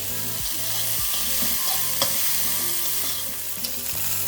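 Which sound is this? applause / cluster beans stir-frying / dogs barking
cluster beans stir-frying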